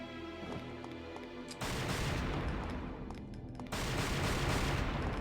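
Rapid gunfire from the video game Devil May Cry 2, a dense, continuous barrage of shots that gets louder partway through and keeps going without a break, with no talking over it.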